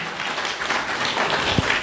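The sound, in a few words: audience applause at a dinner event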